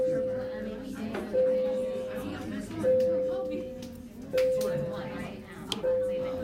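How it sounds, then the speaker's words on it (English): A school bell rings in a classroom, a steady electric tone sounding in several repeated bursts about every one and a half seconds, heard faintly under student chatter and a teacher talking. "the bell's ringing"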